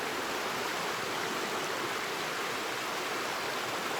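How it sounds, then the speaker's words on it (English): A brook flows behind a rural property, a steady, close hiss of running water that stays even and unbroken throughout, with no voices. "This is the brook behind our property."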